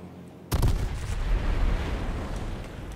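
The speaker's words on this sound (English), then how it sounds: "This airstrike's gonna come and scare the shit out of me again." Airstrike explosions in H1Z1, one sudden heavy blast followed by a dense rumbling roar that keeps going, loud and close.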